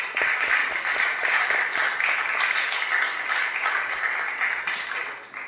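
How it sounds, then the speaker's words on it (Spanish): An audience at a council session breaks into sustained applause, a steady wash of clapping that holds evenly for several seconds. "cumpleaños del regidor Miguel Ángel Basalo, para quien solicito un fuerte aplauso."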